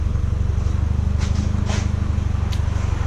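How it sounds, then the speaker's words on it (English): A Nissan/Datsun 720 pickup idles steadily with a newly replaced, quiet exhaust; the low, even engine rumble dominates, with light clicks and scrapes over it. "you can hear the motor louder than the exhaust"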